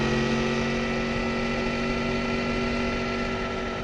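Yamaha MT10 motorcycle engine captured by a microphone mounted under the seat, a steady, loud, continuous mechanical drone with a firm low hum and no breaks.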